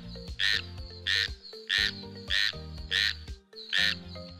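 Frogs croaking in a repeated, regular rhythm, each call a loud, throaty burst with a bright squawky edge, about eight calls close by.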